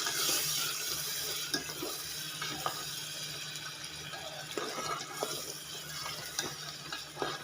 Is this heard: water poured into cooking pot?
yes